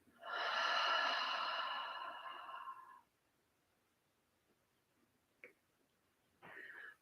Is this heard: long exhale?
yes